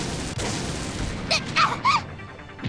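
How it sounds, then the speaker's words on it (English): Explosions in a visual novel video game sound as a few short, sharp bursts in quick succession, loud and close over a steady background of game music or ambience. "another 2 explosions hit us from behind"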